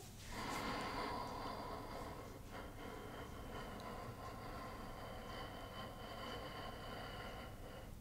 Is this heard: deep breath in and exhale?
yes